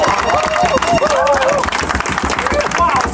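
Studio audience applauds a guest arriving on the Radio Fritz show "Forum Fatal", a steady dense clapping wash lasting throughout with voices talking and exclaiming over it.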